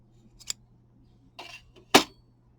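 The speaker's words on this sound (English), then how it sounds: "And then you cut it." Scissors snip through crochet yarn in three short, sharp cuts, the last one loudest, close up against a quiet background.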